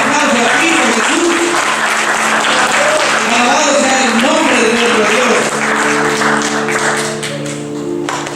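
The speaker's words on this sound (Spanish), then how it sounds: "Demos un fuerte aplauso a Cristo Jesús." A church congregation claps loudly and steadily throughout while a preacher speaks over the applause, with sustained musical tones running underneath.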